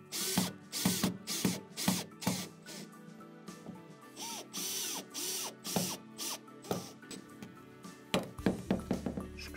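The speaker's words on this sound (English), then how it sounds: "drive in the bolts." Bolts being driven into toilet brackets with a ratcheting tool: close, rhythmic ratchet clicks in bursts, slowing in the middle with some metallic squeaks, then a quick final flurry of clicks.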